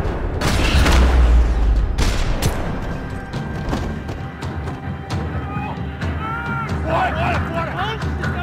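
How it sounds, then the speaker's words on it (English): Gunfire in the video game Max Payne 3 across a parking lot: a loud booming burst of shots at the start, then scattered sharp reports under game voices and music. "Another parking lot rattling with gunfire."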